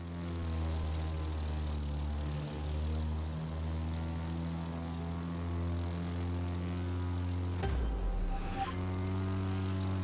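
Propeller plane flying in the racing game The Crew 2 during a knife-edge maneuver, a steady loud engine drone with strong harmonic bands throughout, briefly surging and shifting pitch near the end.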